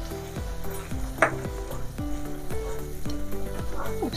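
Spinach and arbi korma masala with yogurt and cream fries in a pan, hissing steadily while a spoon scrapes and knocks against the metal in a regular rhythm of stirring strokes, with no talking.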